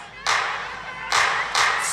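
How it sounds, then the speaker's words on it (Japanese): Audience clapping along in bursts at an outdoor YOSAKOI festival dance performance, broad noisy claps starting in repeated waves over steady crowd background. "じゃあお客さん最初からお手拍子いきますよ。"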